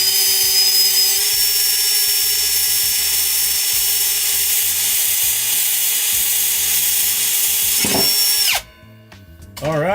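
Power drill boring a hole ahead of a step bit, a loud, steady high-pitched whine at close range that rises briefly in speed, then winds down and stops near the end.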